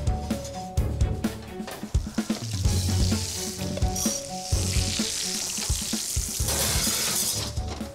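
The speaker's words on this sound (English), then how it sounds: "how are you gonna cook the broccoli? Just like sear it." Broccoli searing in a hot pan in a busy professional cooking competition kitchen, a steady loud sizzle with scattered clatter and knocks of utensils and pans throughout.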